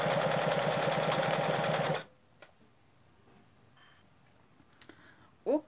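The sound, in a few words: sewing machine stitching zigzag on rug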